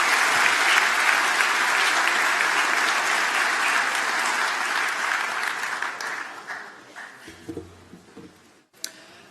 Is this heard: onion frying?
no